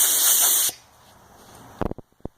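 A loud, close hiss of compressed air from an air compressor nozzle blasting lint off a clothes dryer part, cutting off abruptly after a moment and followed by a few sharp handling knocks.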